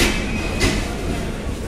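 Continuous rail rumble of the Nilsagar Express, led by locomotive 6629, departing Parbatipur Junction in Bangladesh, with a brief brighter burst midway, heard up close and fairly loud throughout.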